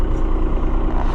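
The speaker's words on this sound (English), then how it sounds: "well, let's move, tractor." A New Holland TN75DA tractor engine runs steadily close by, a loud, continuous diesel rumble with a low throbbing pulse as the machine gets moving.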